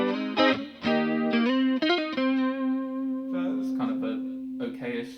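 Clean electric guitar notes and chords through a Rocktek CHR-01 chorus pedal with a touch of spring reverb, shimmering chorus effect, played alone, ringing and sustained.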